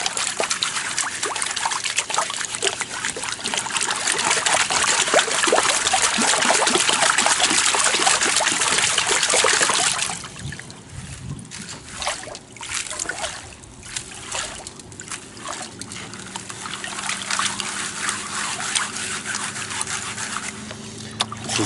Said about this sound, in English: We've just been panning everything up here and cleaning up everything down there.